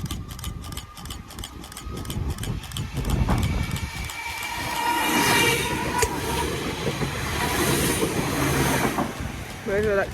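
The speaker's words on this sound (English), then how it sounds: "Major electric service to Kirkdale Depot for Kirkdale carriage sidings, and up we go." An electric passenger train rolls past the Aughton Road level crossing in Southport, Merseyside, its wheels clicking rhythmically over rail joints and building to a broad rumble as it nears, while a person talks over it.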